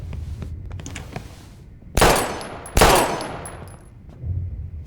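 Gunfire in the video game Life is Strange: two loud, close gunshots about a second apart, each with a long decaying echo, following quieter background sounds.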